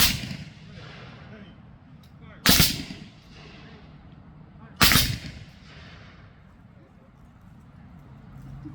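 Civil War infantry reenactors fire two sharp musket volleys at a national battlefield park demonstration, loud and close, each blast ringing out with a fading echo across open ground.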